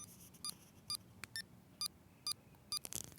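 Digital metronome sounding short, bright electronic beeps at a steady pulse, roughly every half second, close to the mic over a faint background hiss, with no talking.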